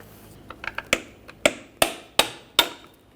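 A 2008-2017 Buick Enclave drive shaft is lightly tapped with a hammer to free it from the front yoke, a few soft taps followed by five evenly spaced, sharp metallic knocks, close and clear with no talking.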